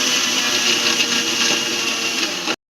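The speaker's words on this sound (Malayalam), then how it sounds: "അതെല്ലാം ചേർത്ത് മിക്സിയുടെ ജാലിട്ട് അടിച്ചെടുക്കാം" An electric mixer grinder whirs at full speed, blending lemon juice with sugar and ice water in its jar. The loud motor drone is steady and close, then cuts off abruptly near the end.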